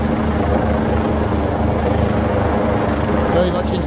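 Steady helicopter rotor drone overhead at a street event with heavy police presence, a continuous loud low throb filling the whole stretch, with voices faintly mixed in.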